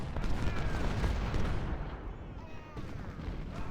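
Cannon and artillery fire in Ultimate General: Civil War during the Battle of Gaines' Mill: a dense, continuous barrage of booming shots and crackling volleys, loud and sustained throughout, with no talking.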